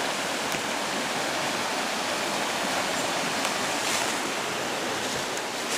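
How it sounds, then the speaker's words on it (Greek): A river stream in the Epirus countryside flows steadily, a dense, constant rush of water close by with no pauses and no voices. "Δεν έχω να πω πολλά λόγια για το ποτάμι μας, για το ποταμάκι μας εδώ."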